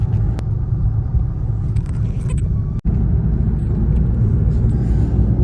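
Cars turning around nearby, heard as a steady, loud low engine rumble that cuts out for a split second before resuming.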